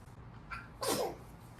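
A single sharp sneeze, close and fairly loud, preceded by a brief quick inhale, with quiet room tone around it.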